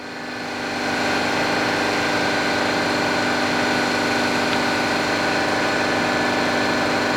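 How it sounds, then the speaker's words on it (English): An air compressor runs steadily, a constant mechanical drone with a strong hum that holds at a near-even level after starting up, with no voices over it. "The air compressor's running"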